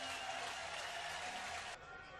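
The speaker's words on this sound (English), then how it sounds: "Oh, you can hear the crowd already" A college baseball crowd at the Greenville regional, East Carolina against South Carolina, roars and claps in a dense, steady wall of cheering before the first pitch that drops off sharply near the end.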